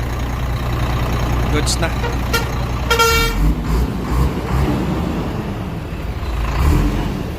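An engine running after an alternator repair produces a loud, steady low rumble throughout, with brief horn-like toots and voices over it.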